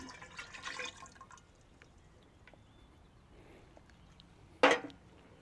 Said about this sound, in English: we're gonna pour this inside of here now